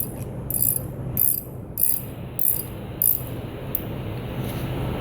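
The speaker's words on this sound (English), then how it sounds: "final tighten with our wrench" Wrench tightening a threaded nozzle on a Farmall 200 tractor: five evenly spaced ratcheting clicks a bit over half a second apart, close and fairly quiet, over a steady low background hum.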